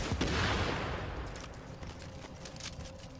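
Dense gunfire in The Division, a turret fight with a rapid mass of shots and bursts that is loudest at the start and stays steady and close throughout.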